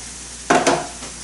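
Almonds toasting in a pan, heard as a short burst of sizzling and stirring rattle that swells briefly and then fades into a low frying hiss.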